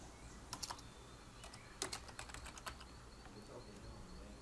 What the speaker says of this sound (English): and we type IP